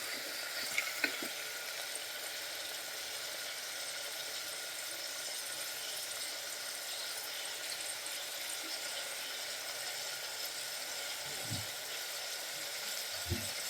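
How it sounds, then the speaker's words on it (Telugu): Tomatoes, carrots and other vegetables for sambar are mixed in a hot pan, a steady soft sizzle with occasional light scraping of the spoon, fairly quiet and without talk. "యాడ్ చేసుకొని బాగా కలుపుకోండి."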